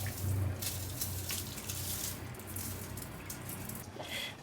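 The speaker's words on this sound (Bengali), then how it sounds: "পানিটা ছেঁকে নিয়ে এই চালটা দিয়ে দেবো।" Soaking water drains off rice for a chicken biryani, a faint, soft trickle and splash of water running steadily with no talking.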